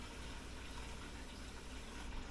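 Water pours steadily into the bottom of a heavy cooking pot in a home kitchen, making a continuous close gushing rush that holds at an even level throughout.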